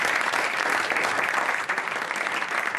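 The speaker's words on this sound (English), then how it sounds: "Oh yeah, clap for that." Applause fills a cabinet meeting room, a dense steady wash of clapping from many hands, loud and continuous.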